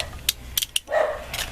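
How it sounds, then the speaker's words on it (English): Dogs bark in a few short sharp bursts, fairly close, answering a doorbell; a higher whine follows near the end. "the dogs are going nuts"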